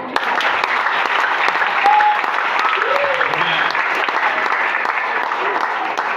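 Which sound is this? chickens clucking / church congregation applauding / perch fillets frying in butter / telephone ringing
church congregation applauding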